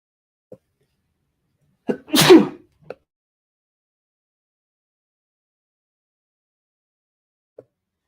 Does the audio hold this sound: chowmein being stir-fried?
no